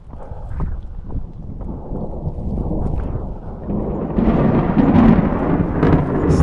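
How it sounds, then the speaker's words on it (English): Thunder from a mountain thunderstorm on a high trail in Val d'Aran, a deep, broad rumble swelling louder over several seconds, with steady rain-like noise and footsteps mixed in. "Still lots of thunders around us."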